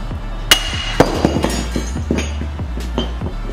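Sharp metallic hammer blows strike a 2004 Chevy Impala wheel bearing in an irregular series, several loud close hits followed by lighter taps, with no talking.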